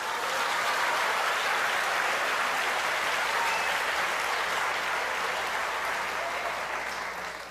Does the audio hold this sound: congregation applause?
yes